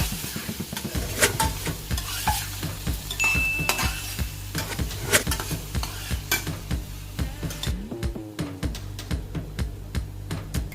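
Thyme leaves stirred in a hot pan with steady sizzling, broken by repeated scrapes and clinks of a utensil against the metal at a close, moderate level.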